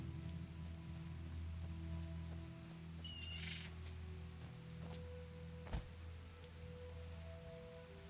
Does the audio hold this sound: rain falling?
yes